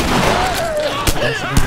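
Gunfire in The Last of Us video game, a couple of sharp shots cracking over a busy game soundscape with music-like tones, loud and close.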